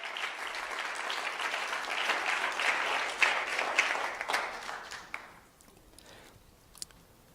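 A church congregation applauds loudly and steadily for about five seconds, then the clapping fades away into quiet room tone with a few scattered claps.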